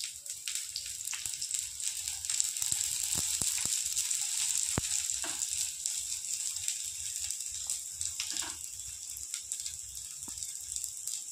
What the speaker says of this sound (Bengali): বন্ধুরা ভালো করে অল্প আঁচে ভালো করে আমি ভেজে নেব